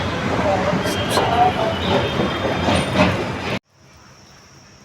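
A metro train rolls along its rails with a steady loud rumble and faint high squeals, heard from close by. It cuts abruptly to near silence with a thin tone. Speech is likely mixed in.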